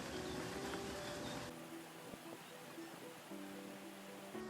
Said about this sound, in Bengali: ঠিক এই ঝর্ণার সাউন্ডটা শুনতে পাচ্ছেন।